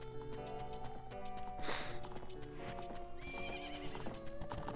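Horse in Zelda Ocarina of Time: steady clip-clopping hooves with a loud neighing whinny partway through, over a game music background.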